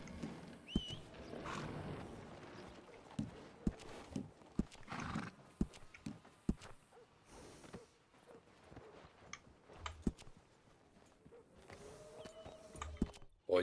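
Horse in Red Dead Redemption II trotting through a town, with irregular clip-clop hoofbeats near and far and occasional neighs among scattered game sounds, fairly faint overall.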